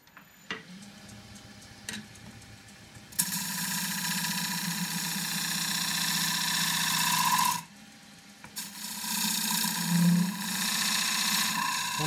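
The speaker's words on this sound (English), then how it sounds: "you can see the inside being hollowed. So the hollowing, going to do most of this with a 3/8 deep fluted bowl gouge" A wood lathe spins a loquat bowl while a 3/8 deep fluted bowl gouge hollows the inside. A steady whirring hum runs in two stretches, broken by a short pause, with faint ticking before it starts.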